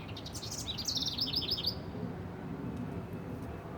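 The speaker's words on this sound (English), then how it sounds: "The birds in the morning," Birds chirp and tweet in a spring garden in the morning, a cluster of bright repeated calls in the first half over a steady low background hum, then fading out.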